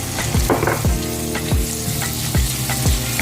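Garlic sizzles loudly in a hot cast iron pan, the heat turned down slightly, while cooking a chicken vegetable soup, with a steady frying hiss broken by several sharp scrapes and knocks from stirring.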